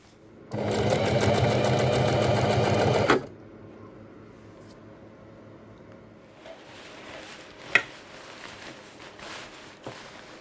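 A sewing machine stitches a tab onto a homemade camping tarp in one loud, fast, steady burst of about three seconds, followed by quiet handling noises and a sharp click.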